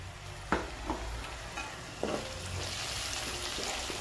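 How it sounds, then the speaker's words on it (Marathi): Turmeric fries in a pan with peas while being stirred, a close sizzle broken by several distinct scraping strokes of a spoon against the pan, with no talking. "त्याच्यानंतर थोडीशी हळद टाकायची, हळद चांगली परतून घ्यायची।"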